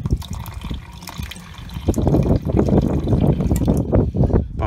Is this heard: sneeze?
no